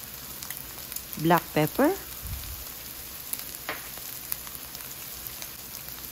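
Beef sautéing in a pan for Filipino picadillo olive stew, a steady low sizzle and frying hiss running through, briefly overlaid by a short spoken phrase near the start.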